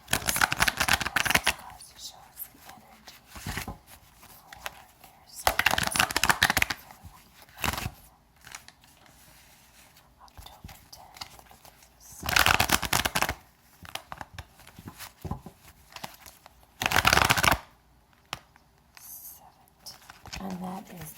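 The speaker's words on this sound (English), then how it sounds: "but we're going to shuffle again" Tarot cards being shuffled in several separate bursts of riffling and patting, close and fairly quiet, with pauses of near silence between them.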